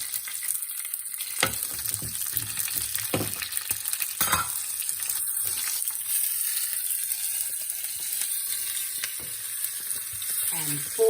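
Curry leaves, ginger and green chilies in hot oil: steady, close sizzling and frying hiss throughout, with a few sharper crackles and stirring clicks.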